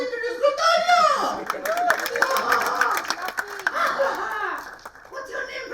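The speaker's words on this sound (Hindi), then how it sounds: "तालियां।" Live audience clapping and cheering for a radio jockey called to the stage at a radio fun event, a dense broadband patter of hands through the clip with crowd voices and talk mixed in.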